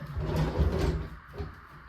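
A wooden drawer in a custom potting bench slides along its runners with a short rumbling scrape, close by and fairly quiet, then settles.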